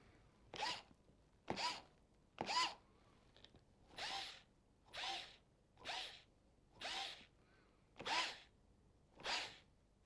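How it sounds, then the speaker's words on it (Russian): Bosch GO 3 cordless screwdriver runs in ten short, regular bursts about a second apart, each whir cutting off as the trigger is released so the spindle spins down, sounding close and clear with no talk. "Практический тест хочу начать с замера скорости остановки шпинделя."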